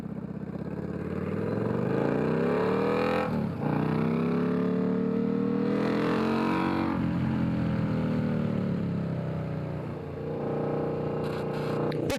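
An Indian Scout Bobber motorcycle fitted with Titus T-bar handlebars rides a twisty road section, its engine note rising and falling steadily through bends with a continuous drone and wind rush, no talking.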